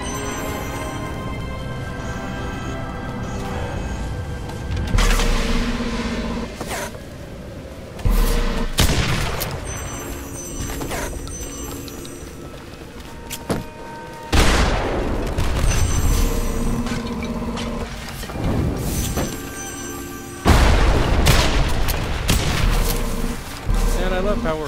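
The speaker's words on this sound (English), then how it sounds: "Shotgun." Repeated booming shotgun blasts go off in Lara Croft and the Temple of Osiris, loud and irregular among crashes and game sounds, with players talking over the action.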